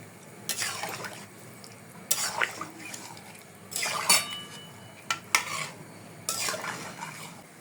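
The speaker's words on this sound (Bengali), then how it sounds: "পাঁচ মিনিটের মতো ঢাকনা দিয়ে দিলাম" A lid goes onto a pot of simmering chicken korma amid a series of metallic clatters and scraping bursts, several separate knocks spaced a second or two apart, close and fairly loud over a low bubbling background.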